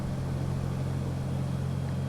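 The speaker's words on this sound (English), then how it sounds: "Full throttle now, and 70 knots, off we go." The engine of an SF260 light aircraft roars at full throttle during the takeoff roll, a steady, dense drone with a constant low tone heard from inside the cockpit and no talking.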